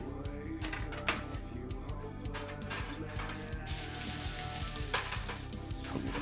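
Ginger sizzles and crackles in a hot pan, a steady frying hiss with occasional clinks and light stirring sounds.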